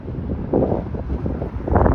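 Wind gusts buffet and rumble against the microphone in low, uneven surges that swell near the end, at Jane Street and Steeles Avenue West in Vaughan, Ontario.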